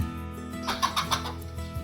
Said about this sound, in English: It's a lot of little chickens.